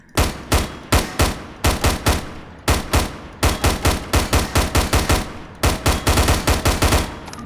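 Rapid gunshots in the game HDTF, loud close bursts of repeated shots in uneven clusters separated by short pauses, no talk.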